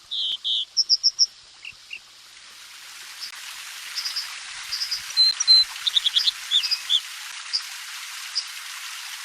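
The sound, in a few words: American Dipper song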